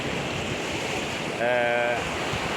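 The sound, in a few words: sea waves at the shore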